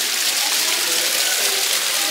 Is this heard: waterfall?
yes